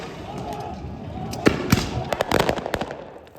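Explosions crack out during street clashes between protesters and riot police in Bolivia: a handful of sharp, close bangs, then a rapid scattered cluster, over a low murmur of crowd noise.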